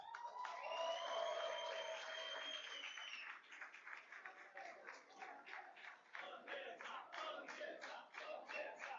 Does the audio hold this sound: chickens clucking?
no